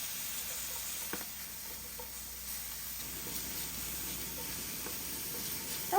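Chopped garlic and onions sizzle in a pan, a steady, even hiss of frying that holds at a moderate level throughout, with a couple of faint clicks and a brief clatter at the very end.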